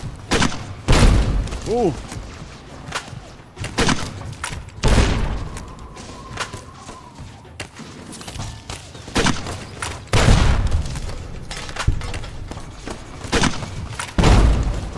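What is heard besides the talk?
grenade rifle explosions in video game Fallout New Vegas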